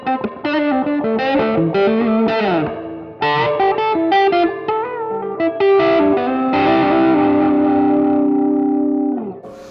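A modded Telecaster electric guitar with its tone knob rolled back plays a series of chords and sustained notes with a honky, nasal, effects-laden tone, loud and close with no talking.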